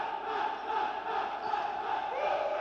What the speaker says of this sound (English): Decent crowd here tonight for Family Night.